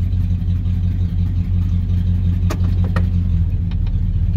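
A Ford F-150 truck engine idles with a steady low rumble while the 4R70W automatic transmission is cycled through its gears, with a few light clicks and clunks over the engine.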